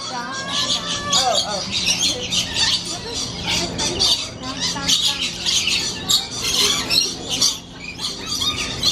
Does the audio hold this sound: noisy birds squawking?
yes